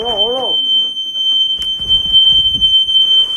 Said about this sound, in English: Everywhere I go, they need a smoke alarm.